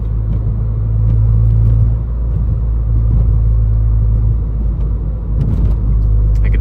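Car engine of a 2013 Honda Civic Si on its original clutch, droning in a steady low rumble while driving, close and continuous with a slight surge partway through.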